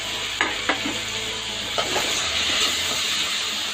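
Tomatoes dropped into a hot pan for chutney, sizzling steadily with a few sharp stirring scrapes and taps, close and fairly loud.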